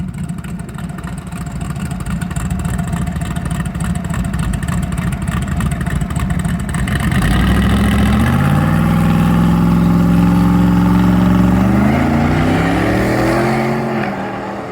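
A race truck's loud engine drones steadily on a track, then revs up and climbs through rising pitches as it accelerates hard, close by with no speech.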